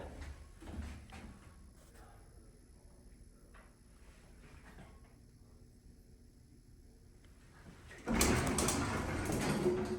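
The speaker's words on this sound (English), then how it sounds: "Gosh, that door is loud." A vintage Otis black-button elevator's door, quiet at first with faint clicks and rumbles, then sliding open in a sudden loud, sustained rumbling rush near the end.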